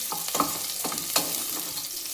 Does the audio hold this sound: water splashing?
no